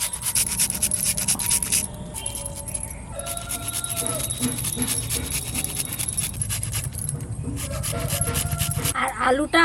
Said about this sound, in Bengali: এবার এই ঘষণিটা দিয়ে আমি ঘষে নেব।